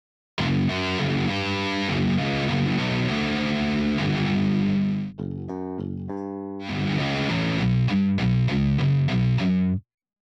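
Ample Sound Hellrazer virtual guitar plays through its built-in amp distortion: heavily overdriven riffs and sustained chords fill most of the span, broken by a brief choppy, stuttering passage before the riffing resumes and cuts off cleanly.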